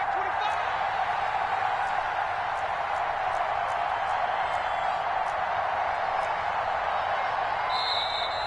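Steady roar of a large stadium crowd at a Seahawks versus Bills football game, rising during a tense late two-point try, a continuous loud wall of cheering and noise throughout.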